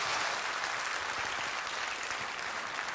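A church congregation gives a warm round of applause during a Sunday service: dense, continuous clapping from a large crowd, even and unbroken across the whole stretch, with no speech over it.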